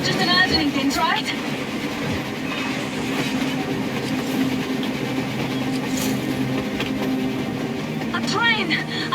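A train runs on the surface in the Metro Exodus video game, rumbling and clattering over the rails with metallic squeals and clanks, loud and sustained, while voices murmur underneath.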